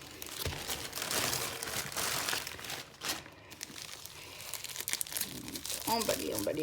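A wrapped package for a diamond painting kit is opened, its plastic wrapping crinkling and tearing steadily under a quiet speaking voice.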